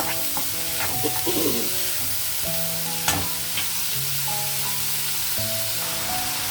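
Chopped spring onion stalks sizzle steadily in hot oil in a pan, with a few sharp clinks of a stirring spoon and a crackling frying hiss running throughout; a faint melodic tone sits in the background.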